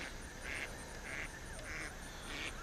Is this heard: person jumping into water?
no